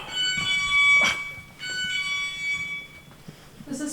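An alarm sounding inside the old Greene County Almshouse, shrill electronic tones pulsing on and off in a steady pattern, fairly loud and close, with brief human noise near the end.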